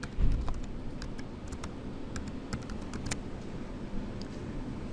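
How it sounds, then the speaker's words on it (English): Keys tap on a computer keyboard in a quiet room, a string of light, fairly even clicks while a name is typed into a text box. "I'm going to type my name"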